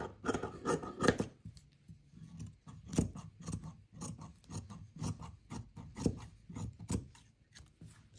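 Scissors snip through a fabric dress petal with rhinestone trim to come, a steady series of close, crisp cuts in an irregular rhythm, heaviest in the first second and continuing in separate bursts.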